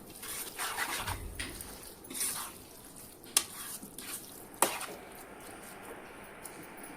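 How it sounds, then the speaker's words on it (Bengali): Fried chicken being stirred in a cooking pot for chicken daliya khichuri, with soft scraping and shuffling over a faint steady sizzle, and two sharp utensil clicks against the pot. "এখন আমি যেগুলো চিকেন ফ্রাই করে রাখছিলাম সেগুলো দিয়ে দিলাম এখানে। এখন একটু ভালো করে নাড়াচাড়া করে নিব।"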